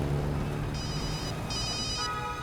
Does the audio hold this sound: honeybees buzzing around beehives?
no